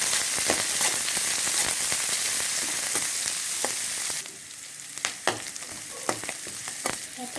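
Kai lan leaves fry in a pan, loud continuous sizzling for several seconds, then a quieter stretch where spatula scrapes and taps against the pan stand out sharply, close by with no talk.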